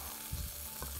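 Chicken coconut curry sizzles and bubbles in a pot, a close, steady frying crackle with a couple of brief stirring scrapes and no voices.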